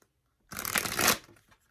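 A deck of tarot cards is shuffled once in a brief riffling burst, close and crisp, lasting under a second, with near silence before and after.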